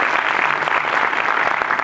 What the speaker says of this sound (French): normalement le public applaudit très très fort